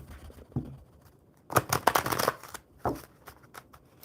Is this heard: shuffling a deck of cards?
yes